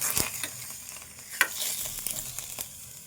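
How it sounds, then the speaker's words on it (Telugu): Goat liver frying in a pan, a close, steady sizzle with regular stirring clicks and scrapes of a utensil, one sharper knock midway, no voices. "ఇందులో ఉన్న నీరు పోయేదాకా మంచిగా ఫ్రై చేసుకోవాలి."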